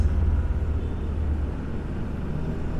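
A hybrid car pulling away, its low engine and road rumble steady and close from inside the cabin, fading slightly as it gets moving.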